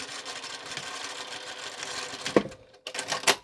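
Sewing machine backstitching at the end of a seam on a fabric face mask, a close, rapid mechanical stitching rattle that runs steadily, pauses briefly near the end, then starts again.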